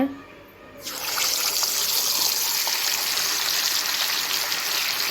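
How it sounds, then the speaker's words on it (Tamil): Fish slid into hot oil for a fish fry bursts into a loud, steady sizzle after a brief quiet start and stays close and even for several seconds. "இப்போங்க நம்ம மீன் எடுத்து அப்படியே எண்ணெயில் போட்டுக்கலாங்க"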